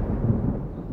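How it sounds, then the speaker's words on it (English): Low rumbling thunder crash, a deep continuous roll that stays loud and steady throughout, with no voices. "Boom, ba ba ba boom, crashed the thunder."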